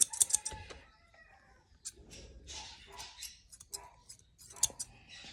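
Scissors snip through a Mi-Ki dog's hair during a trim around the eyes, a few soft, quick cutting clicks close by in a quiet room with brief rustles between.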